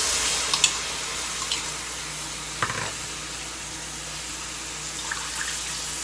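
Thick coconut milk is poured into soaked rice, a soft continuous liquid pour with faint splashes and a few small clinks nearby, without speech.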